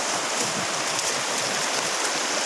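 Water flowing steadily at Basag Falls, a constant close rushing hiss of a waterfall that fills the whole clip without pause.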